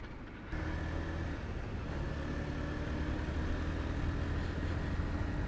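A motorcycle riding on a road at about 70, heard as a steady, loud engine drone mixed with road and wind rumble that starts abruptly and holds continuously throughout.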